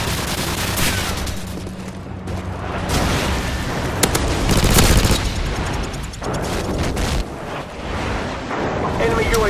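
Airstrike explosions in Call of Duty 4 multiplayer: a dense, loud run of booms and rumbling blasts mixed with gunfire crackle, continuous across the stretch and peaking in the middle.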